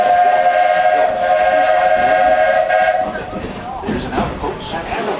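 A steam locomotive on the Walt Disney World Railroad sounds a loud, sustained whistle for about three seconds, then hissing steam and rumbling train noise follow.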